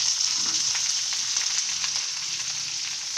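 Sliced onions and chillies fry in a pan for chutney, a steady close sizzling hiss with faint crackles and occasional stirring scrapes.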